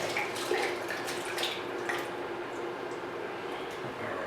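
Tomatoes simmering in a pot for spaghetti bolognese are stirred, giving soft, wet squishing and faint bubbling that runs steadily and close up with no talking.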